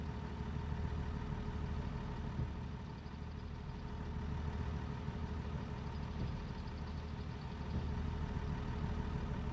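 A tractor engine idles in the Farming Simulator video game, heard from inside the closed cab as a steady, even low drone that holds for the whole stretch without variation.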